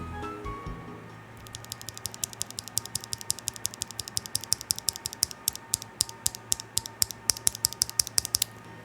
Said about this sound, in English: Here's what this switch sounds like.